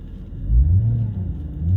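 A 2008 Mercedes S63 with 64,000 km gives a low engine rumble whose tone swells and rises with the revs, heard up close and steady for a couple of seconds with no talking.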